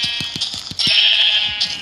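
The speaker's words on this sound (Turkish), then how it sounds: "Gel buraya koyun." A sheep in the Minecraft video game gives a short, clear bleat, preceded by a quick series of soft rhythmic thumps, with no talking.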